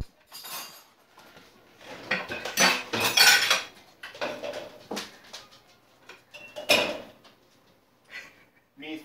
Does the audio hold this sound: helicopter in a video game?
no